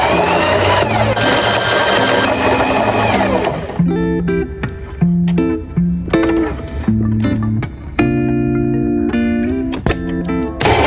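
A sewing machine stitches a waistband onto a hoodie, a steady mechanical whir at first, then short bursts of stitching broken by brief pauses, close and fairly loud with no talking.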